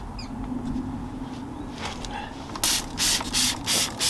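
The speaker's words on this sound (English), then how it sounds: "give it a spray with some brake buster" Brake buster cleaner hisses from a spray bottle onto car wheels in several short bursts after a quiet stretch of faint rubbing and handling noise.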